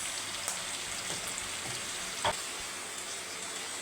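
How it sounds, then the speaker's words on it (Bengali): Beef salad with ground black pepper and soy sauce being stirred and tossed in a pan, giving a soft, steady sizzle with faint scraping clicks, quiet and continuous with no talking. "তারপর ভালো করে নেড়ে মিশিয়ে নেবো"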